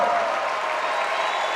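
A basketball crowd in a college arena applauds steadily as a player leaves the court during a UCLA versus Cal Poly men's game, a broad, even wash of clapping with no clear talk on top.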